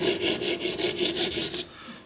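A knife is drawn across the stone of an Edge Pro Apex sharpener in about eight quick, even rasping strokes. The scraping is close and steady, shedding metal, and stops abruptly near the end.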